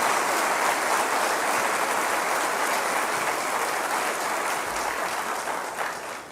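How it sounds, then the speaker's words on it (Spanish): A church congregation claps for the Lord in a dense, loud, sustained burst of applause that holds steady for several seconds, then tapers slightly at the end. "Dale un aplauso al Señor."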